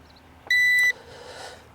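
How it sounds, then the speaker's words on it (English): SMRC ICAT7 PRO drone emits a single clear electronic beep of about half a second on acquiring satellites, close and loud over quiet background hiss. "And another beep there, I think it's telling us it got enough satellites."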